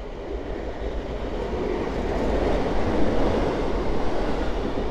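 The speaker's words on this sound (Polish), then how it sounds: "Kolejna stara, piękna lokomotywa." At Warszawa Powiśle station, an old locomotive-hauled train rolls by close and loud, a dense continuous rumble with faint clattering wheels that swells slightly toward the middle.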